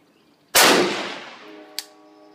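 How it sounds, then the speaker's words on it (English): A precision rifle fires a single sharp, loud shot at a 50-yard range, the blast decaying over about a second, followed by a brief metallic ping. "we're now ready for our first 50-yard shot"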